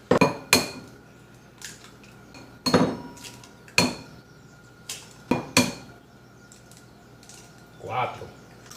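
Four eggs are cracked into a bowl while making pork fried rice: sharp, separate taps and clinks against the bowl's rim come in irregular bursts, close and clear, with quiet pauses between them.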